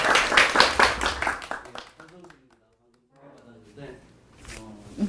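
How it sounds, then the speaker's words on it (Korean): A small bookstore audience claps to welcome an author to a book talk, a short burst of close clapping that fades within two seconds, followed by quiet speech. "박수로 맞아주세요"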